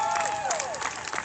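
A crowd at a nighttime street protest claps and cheers, with scattered whoops and a sliding voice rising over the applause, moderately loud and continuous.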